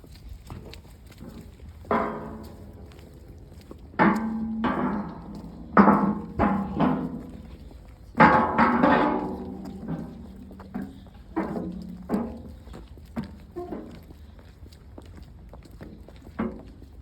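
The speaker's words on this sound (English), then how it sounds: "These metal things on the floor make a really big noise." Footsteps on metal floor plates aboard a boat, heard as a steady series of loud clanking, thudding steps with a pause between some groups of strides.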